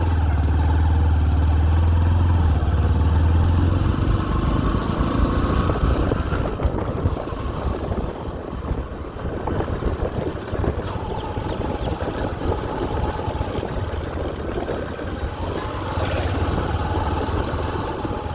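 A motorcycle ridden slowly along a rough, potholed Gujarati village road, its mid-pitched engine droning steadily close by, with a brief lower rumble at the start and bumps and wind buffeting through the ride.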